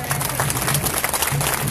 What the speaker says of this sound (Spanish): Fuertes palmas, por favor.